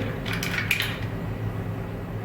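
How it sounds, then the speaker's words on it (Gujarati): Ice cubes dropped into a glass of Kathiyawadi-style lemon sikanji: a few bright clinks and rattles near the start, then a quiet, steady background. "આઈસ ક્યુબ નાખીશું"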